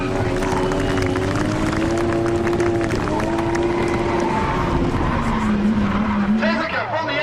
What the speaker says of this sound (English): To finish off the first demo, it was time for some two-car donuts